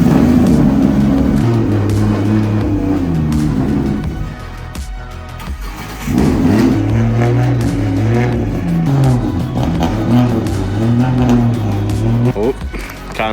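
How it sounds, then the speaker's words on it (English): A loud, close car engine runs with a droning hum, drops off briefly, then fires up again and keeps running, its pitch rising and falling. "So let's see if she runs in the USA."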